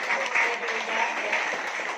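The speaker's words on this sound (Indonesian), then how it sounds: "aplaus untuk Anda yang baru" A seminar audience breaks into brief, dense applause for first-time attendees, a steady wash of many hands clapping at close range with speech mixed in.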